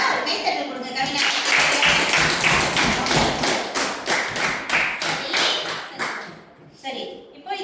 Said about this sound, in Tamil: ஒரு கைத்தட்டல் கொடுங்க கவினாஷா